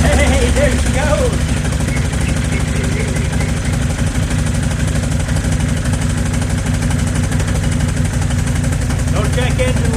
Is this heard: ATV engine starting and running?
yes